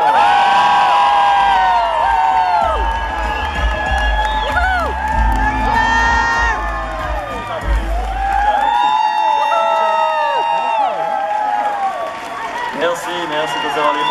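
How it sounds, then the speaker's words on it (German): A crowd at a Jura event welcoming tennis star Roger Federer erupts in loud sustained cheering, whoops and applause, with many excited voices and shouts layered together throughout, under a low musical rumble in the first half. "ganz kurz begrüßen mit einem herzlichen, intensiven, respektvollen und würdigen Applaus unseren"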